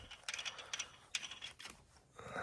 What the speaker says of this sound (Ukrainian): Закручую сам шток ключиком на 8 до моменту, коли відчуваю, далі не йде.